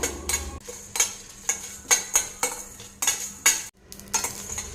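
Cinnamon and two Kashmiri chillies dry roast in a pan for a cauliflower fry masala. A spatula scrapes in about eight quick, rhythmic strokes, close and clear with no voice.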